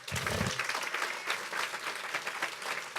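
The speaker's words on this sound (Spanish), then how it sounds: "Si puede, darle un aplauso al Rey." A church congregation bursts into applause, a dense, loud wash of clapping that carries on steadily for about three seconds.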